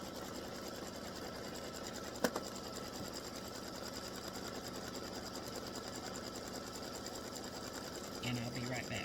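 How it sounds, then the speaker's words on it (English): A sewing machine steadily stitches appliqué stars in dark blue thread on a quilt block, a continuous even whir with one sharp click partway through and a faint voice near the end. "the next color is going to be to stitch the stars"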